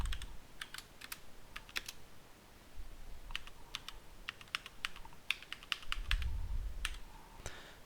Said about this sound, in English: we're going to type this.